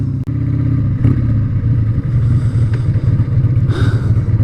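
A Harley-Davidson Sportster motorcycle engine with an exhaust leak idles close by with a loud, uneven low chugging and rattly puffs, steady throughout with no talking.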